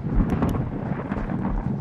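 Low, rumbling thunder from the Paranormal Activity VR horror game rolls continuously beneath faint higher crackles, steady and fairly loud throughout with no one speaking.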